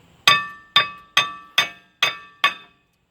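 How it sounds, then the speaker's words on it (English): Six evenly spaced, sharp metallic hammer blows ringing off an old brake rotor on a BMW E36, each strike clanging bright and decaying quickly, close and loud with no talking. "if you are replacing the rotor, you can beat it on the back side, and typically that'll help it fall out a whole lot quicker"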